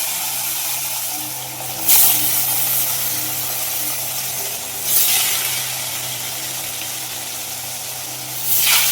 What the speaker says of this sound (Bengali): তেল গরম হয়ে গেছে, মাছগুলো এখন ভাজা করছি।